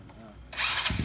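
A Honda Suprafit single-cylinder four-stroke SOHC motorcycle engine cranks and catches, a brief starter whir jumping into a loud, buzzy idle with pulsing low thumps, following a quiet lead-in.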